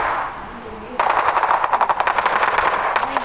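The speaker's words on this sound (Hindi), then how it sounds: "पहले से ही भाई बंदूक की आवाज स्टार्ट हो गई" Rapid machine-gun bursts from the battle video game Battle Prime start abruptly after a quiet moment, loud, sharp and rhythmic, continuing steadily to the end.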